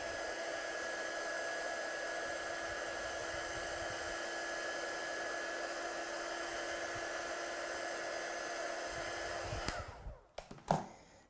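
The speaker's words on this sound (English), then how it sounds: "I'm just going to heat set these quickly just to make sure they're dry before we move on to the next phase" A heat tool dries freshly painted watercolour with a steady, loud, close whirring blast for about ten seconds, then switches off, leaving a few brief soft clicks and knocks.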